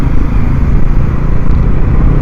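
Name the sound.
NS400 motorcycle riding on highway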